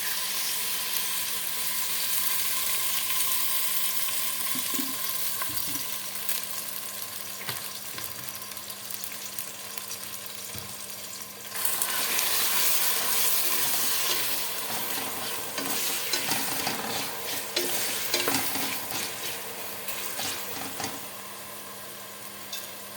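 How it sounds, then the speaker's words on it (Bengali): Onions fry in a pan for biryani, a loud continuous sizzle laced with stirring scrapes, swelling into a stronger burst about halfway through and carrying on steadily, close up with no voices. "এই যে বন্ধুরা আমি বিরিয়ানির জন্য বসাই দিছি পেঁয়াজ"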